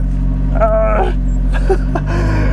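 Alfa Romeo 4C engine droning low and steady, then picking up as the car backs up and pulls away, with a brief higher-pitched whine partway through; no one speaks.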